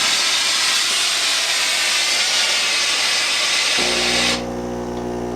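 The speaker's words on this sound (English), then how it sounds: "It pushes steam extremely fast." A Rowenta DG8430 Pro Precision compact steam station iron blasts steam in a loud, steady hiss that holds for several seconds, then cuts off abruptly, leaving a low mechanical hum from the unit.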